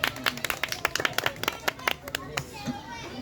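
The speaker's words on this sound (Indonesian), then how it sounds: "Tepuk tangannya dong." An audience at a book talk during an Indonesian literacy mini-festival gives brief scattered clapping. The claps are sharp and irregular and fade out within a few seconds, with some voices mixed in.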